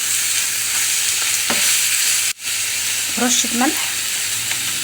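Ground meat frying with black pepper, cinnamon and seven-spice in a pan, a steady loud sizzle and hiss with occasional scraping stirs of a spoon, close by, with a short spoken phrase over it.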